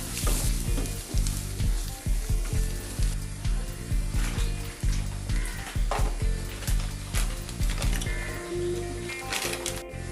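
Food stirred in a hot pan during biryani masala preparation gives a dense, continuous sizzle with scraping strokes, heard up close under steady background music and with no talking.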